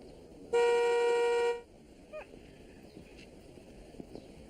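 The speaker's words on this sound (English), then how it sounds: "Honk if you brake for dolphins." A single car horn gives one loud, sustained honk of about a second, followed by quiet background noise.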